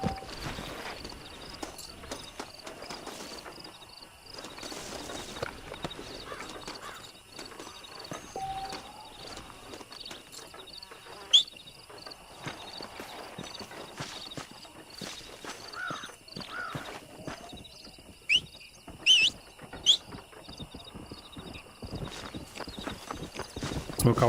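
A horse in the video game GTA da Roça clip-clops at a walk with steady, moderately close hoofbeats, joined by occasional clicks and game sounds.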